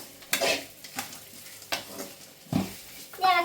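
Clam meat stirred with pepper, chili and coriander powders in a pan, with spoon scrapes and clinks against the pan repeating about every second over a soft sizzle.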